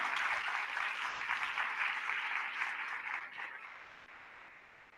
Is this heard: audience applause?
yes